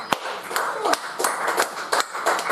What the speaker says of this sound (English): there might be a little bit of a clap off here for the final game